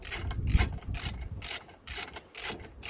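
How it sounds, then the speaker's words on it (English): A wrench ratchets in repeated short bursts while a brake caliper bolt is tightened on a Mercedes-Benz GLB 200 X247 during a front brake pad replacement, with clicking strokes and brief pauses between them, close and clear. "So while I'm tightening it, I'm going to hold on to the guide pin so that it doesn't spin."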